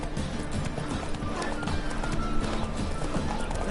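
Roach the horse galloping in The Witcher 3, a steady fast clip-clop of hooves close by, continuous and even under outdoor game ambience.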